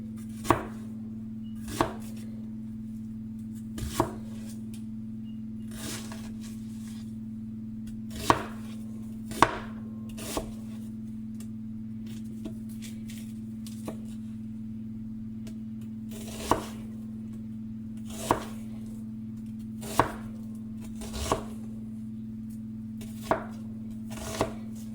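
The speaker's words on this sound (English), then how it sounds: "I like my onions cut finely." A Matsato knife finely chopping onions on a board, sharp distinct chops at irregular intervals, close and alone over a steady low electrical hum.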